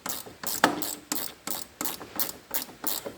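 A ratchet wrench tightens the bolt of a van's bonnet catch on a Renault Trafic, Vauxhall Vivaro or Nissan Primastar, making a close, regular series of sharp clicking bursts in a steady rhythm with no talk.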